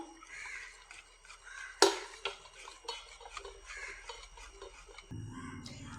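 Rested cake batter being stirred in a bowl for an oven-free, beater-free cake: soft, steady scraping and clinking with one sharp knock near the start, moderately close and without talk.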